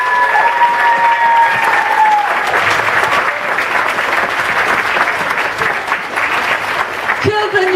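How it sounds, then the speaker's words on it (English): An audience claps loudly for a children's school performance, a steady, dense round of applause lasting several seconds, fading slightly near the end as a brief sound cuts in. "Can we give Shan a great big clap?"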